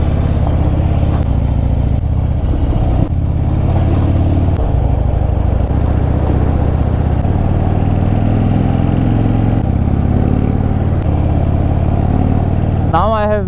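A Harley-Davidson Fat Bob Dyna motorcycle engine thrums while riding through a mountain valley, a loud, steady low rumble with occasional revs, with a rider talking over it throughout.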